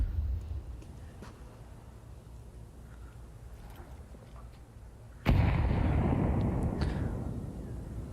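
Grenade blast in a competitive Counter-Strike esports match: steady low game ambience, then a single sudden loud broadband explosion that lingers as a rumbling, slowly fading roar.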